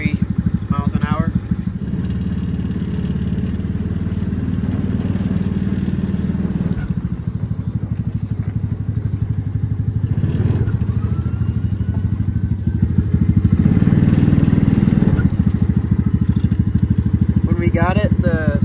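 A Coolster mini jeep's small engine runs steadily throughout, a continuous mid-pitched drone that swells slightly near the end, with a voice talking over it.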